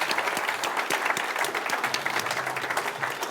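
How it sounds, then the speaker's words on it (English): Audience applause for a motivational speaker as he is welcomed onto a stage, a dense, steady wash of clapping that fills the room throughout without a break. "give him a round of applause for Brad Burton."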